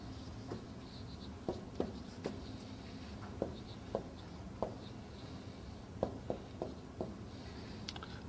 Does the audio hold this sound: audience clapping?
no